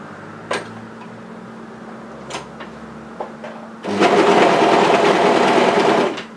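A serger runs a fast, steady whirring burst lasting a couple of seconds as it overlocks a fabric seam, preceded by a few light clicks and handling taps.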